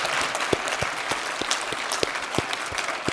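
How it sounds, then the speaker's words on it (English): A summit audience applauds the panelists after a session, dense steady clapping from many hands filling the room, close and sustained for the whole moment with no talk over it. "let's give our panelists a big round of applause"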